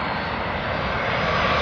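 Cargo airplane passing low overhead on approach to land at Heathrow, a continuous loud engine roar filling the whole moment, steady and close, with no voices.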